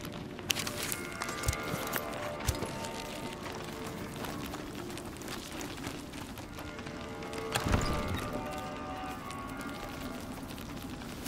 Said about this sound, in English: Ugh, the horse.